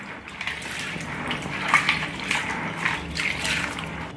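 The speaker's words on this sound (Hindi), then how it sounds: "पानी से डालकर अच्छे से हाथ से मसल के इसको धो लेंगे हम।" Raw peanuts being washed by hand in water, a steady close sloshing and swirling with splashy bursts as the nuts are rubbed and stirred, no talking.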